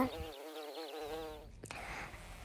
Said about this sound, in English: A bee named Asal is buzzing around in search of food